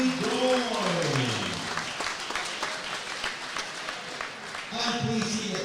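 Crowd applauds after a unanimous decision at a Scottish youth and elite boxing championship, a steady wash of distant clapping with a voice speaking over it at the start and end.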